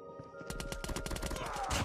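Rapid AK-117 assault rifle fire in Call of Duty Mobile, a burst of closely spaced shots over game music and effects, rising in loudness toward the end.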